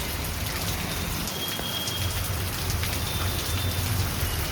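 Heavy rain pours down steadily, a dense, loud, unbroken hiss of drops drumming on surfaces all around, with no voices.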